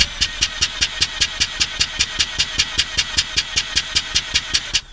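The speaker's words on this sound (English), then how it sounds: "crank the engine for 5 seconds and not less" A Mazda RX-8 rotary engine cranks steadily during a compression test, with a rapid, even rhythm of repeated whirring pulses, close and loud, for several seconds without catching.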